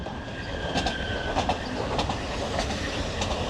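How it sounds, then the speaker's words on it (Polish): A passing train rolls steadily by with a continuous rumble and rhythmic clickety-clack of wheels over rail joints, fairly close, relatively quiet for a train, no voices. "pociągi jeżdżą non stop, zobaczcie. Ten akurat cichy jedzie."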